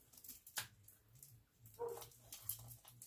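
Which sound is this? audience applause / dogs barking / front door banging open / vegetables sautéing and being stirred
dogs barking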